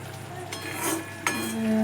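Onion gravy being stirred in a pan for a whole-onion curry, a soft sizzle under a couple of scraping spoon strokes, close and brief, with no talking.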